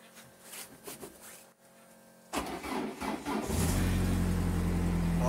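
A Citroën Saxo's engine cranks over in cold weather and catches around two seconds in, then settles into a steady, loud idle, heard close up with no talking.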